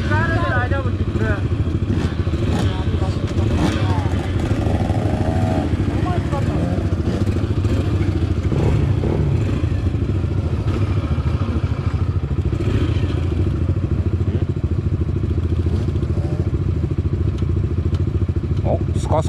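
A mini motorcycle engine idles and revs steadily after a kick start at a mini-moto race track, running loud and close throughout with a rattly buzz, while people talk over it.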